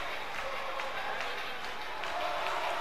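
A WWE 2K20 arena crowd roars and claps steadily through an NXT match, a dense, continuous wash of cheering at moderate distance.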